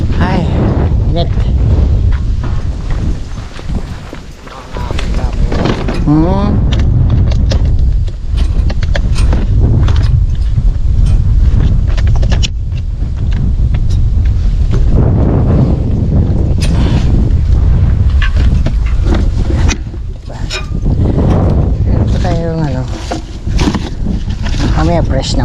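Strong wind at sea during airgun fishing roars steadily and loudly into the microphone, a dense low rumble that almost never lets up, with voices talking now and then underneath.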